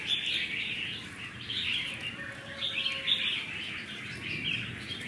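A red-whiskered bulbul (chào mào) from Laos sings, a steady run of bright chirping, warbled phrases, fairly close and continuous over low background noise.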